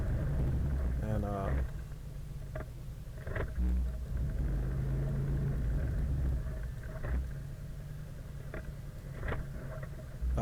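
An off-road vehicle rumbles along a trail, its engine giving a heavy low drone with shifting load as it changes into low four-wheel drive, and clunks and knocks from the rough ground sound throughout.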